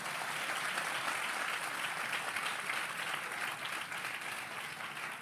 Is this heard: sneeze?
no